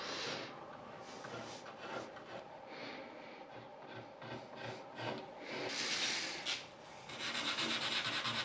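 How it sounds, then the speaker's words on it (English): A utility knife scrapes paint off a piece of curbside furniture in a continuous rasping, rubbing sound, with repeated strokes that grow louder and brighter toward the end. "I just took out my utility knife and just scraped the pieces away as best as I could."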